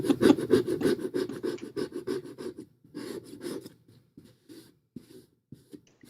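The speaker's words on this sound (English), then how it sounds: "Oh, the box scraping sounds." Rough scraping and rubbing against a cardboard box, a dense run of rasping strokes that fades into sparse, isolated scrapes and soft knocks, close and fairly loud with no talking.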